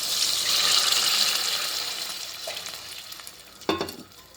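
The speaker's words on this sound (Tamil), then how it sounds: "இப்போ இந்த தண்ணியை நாம் ஊற்றிடலாம் ஃப்ரெண்ட்ஸ்" A loud, steady sizzle fills the pan while making coriander rice, then a sudden splash and hiss as water hits the hot surface, fading toward the end.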